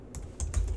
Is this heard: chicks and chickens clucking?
no